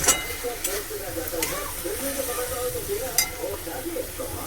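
Boiled teasel gourd is stirred into fried spice paste in a pan, a loud sizzle and fry under scraping stirs and faint clinks of the spoon against the pot, with a muffled voice in the background.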